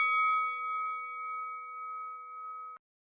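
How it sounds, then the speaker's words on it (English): A single clear quiz bell strikes once on a podcast and rings out as a bright sustained tone for nearly three seconds before cutting off abruptly, heard alone without talk. "Now, when the bell sounds,"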